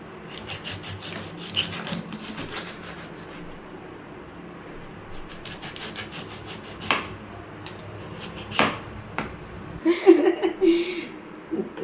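Scraping and cutting of a kadal aaraa fish being cleaned at home, an uneven run of rasping and rubbing strokes with sharper knife scrapes building near the end, soft and close.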